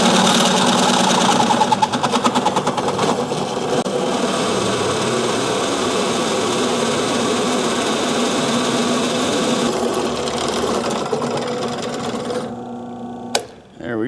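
A power drill bores a hole in metal while fabricating a baler jack handle, a steady loud whine that runs for most of the stretch before stopping near the end, followed by a brief clank.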